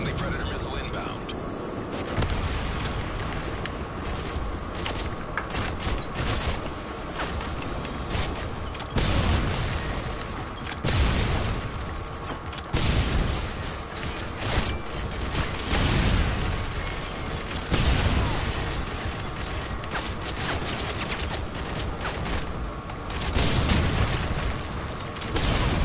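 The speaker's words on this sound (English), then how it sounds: "Friendly predator missile inbound." Repeated heavy booms from predator missile strikes in Modern Warfare 3 on a village map, thudding every few seconds through a dense, continuous roar of gunfire and battle noise.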